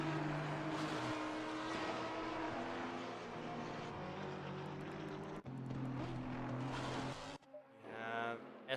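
A GT4 race car engine at full throttle in Assetto Corsa Competizione at Brands Hatch: a loud, steady, droning engine note with shifting pitch as gears change, cutting off sharply near the end.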